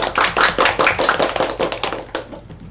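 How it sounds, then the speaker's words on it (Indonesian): Grade 7 civics class students clapping hands together in a classroom, a rhythmic burst of quick claps in a patterned beat that gradually tapers off. "Tepuk tangan dulu."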